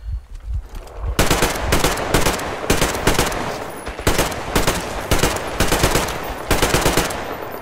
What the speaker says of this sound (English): I'm just violently shooting in no specific direction